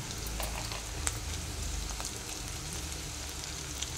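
Onions and ginger-garlic paste frying in a pan for a fish curry give a steady, close sizzle with faint crackles throughout and no voices.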